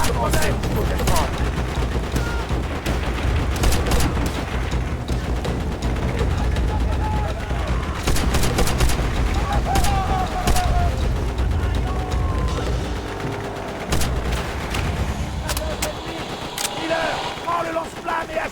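Dense, loud machine gun fire and battle noise in the World War II shooter Call of Duty: World at War, with rapid bursts and sharp shots continuing throughout and voices calling out over the din.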